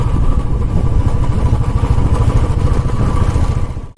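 Royal Enfield Bullet motorcycle engine thumping steadily close by on a mountain road trip to Munsiyari, a dense continuous low rumble that cuts off abruptly at the very end.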